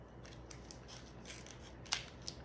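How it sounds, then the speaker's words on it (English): Kitchen scissors snipping open a cream cheese package, a few quiet close rubbing cuts building to two sharper clicks of the blades near the end. "I'm gonna have to get the kitchen scissors"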